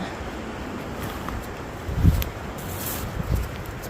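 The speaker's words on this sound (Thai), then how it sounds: "ลมแรงจริง" Strong wind buffets a microphone outdoors in a forest while mushrooms are being picked, a steady roar with louder gusts and rustling in the second half.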